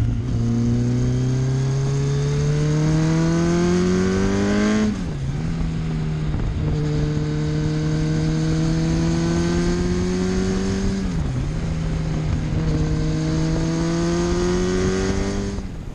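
Kawasaki Ninja 1000 motorcycle ridden near Carters Lake, its engine droning loud and steady through the whole ride, pitch climbing under acceleration and dipping briefly at two gear shifts.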